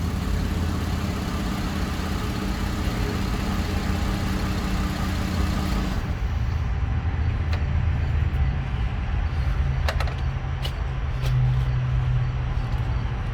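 A 2010 Chevy Traverse stalling after an engine replacement runs steadily with a low, rumbling idle. The tone shifts partway through, and a few faint clicks sit over the continuous engine hum.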